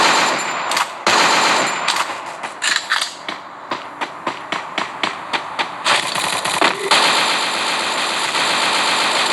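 Loud rapid bursts of video game gunfire in Free Fire ring out, first in quick clusters and then as repeated spaced shots, ending in sustained automatic firing.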